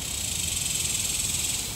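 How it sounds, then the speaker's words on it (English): Cicadas sing in trees in Central Texas, a dense, steady high-pitched buzzing drone with a faint pulsing rhythm, loud and continuous throughout with no voices. "cicadas are now perched in trees above ground looking for love"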